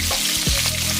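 Onions go into hot oil after cumin reddens for a Nepali yam curry, bursting into a loud, close, continuous sizzle with a brief splattering thud.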